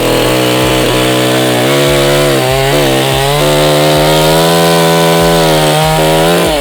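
Loud Dnipro-M petrol chainsaw whine bogging and rising as it sinks through wood under its own weight, continuous and close, with no voices.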